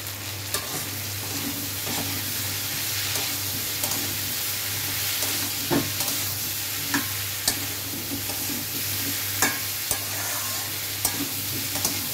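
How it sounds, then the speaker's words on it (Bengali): Hilsa fish head and pumpkin stir-fried in a covered pan, a steady close sizzle and fry hiss with intermittent soft stirring knocks throughout, no voices. "এটা ঢেকে কষাতে কষাতে কষাতে শুকনো হয়ে যাবে"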